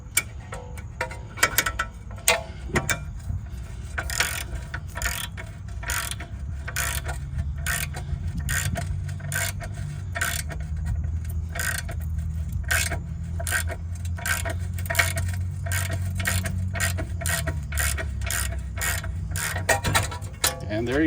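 A stuck car brake rotor being pushed off with a nut and bolt as a wrench ratchets in a steady rapid clicking rhythm, close up, with a low grinding strain building as the bolt presses the rotor free.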